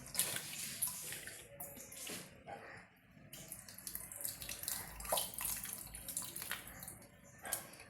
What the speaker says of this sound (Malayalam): ഞാൻ പുളിവെള്ളം കൊണ്ട് ഒഴിക്കാം.